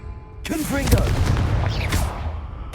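Confringo blasting spell explosion in Hogwarts Legacy, a sudden loud booming blast followed by crackling burst effects, with a voice briefly calling out over it.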